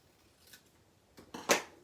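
Scissors snip through cardstock while a corner fold card is made: a couple of soft cuts, then one louder crisp snip near the end, close and quiet with no talking.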